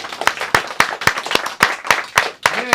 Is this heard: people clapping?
yes